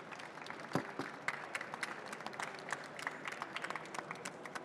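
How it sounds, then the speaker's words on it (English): A pitch competition audience gives a faint, distant round of applause for the judges, scattered claps rising through a steady wash for several seconds. "And a round of applause for our judges today."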